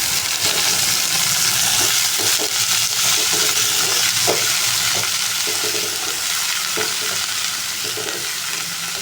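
Steady loud sizzling of bitter gourd frying in hot oil with onion and curry leaves, with occasional stirring clatter, continuous throughout with no talking.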